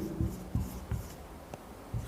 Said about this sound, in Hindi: मैं यहाँ लिख देता हूँ, आप नीचे लिख देना।